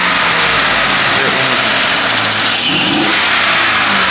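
A truck engine with a newly installed mod starts up and revs, hood open, close and loud, with a steady running drone and a rising rev near the end, while people talk over it.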